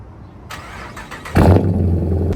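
A Dodge Charger R/T V8 fitted with a new aftermarket exhaust starts up nearby, a short crank giving way to a sudden loud catch and a deep, rumbling idle.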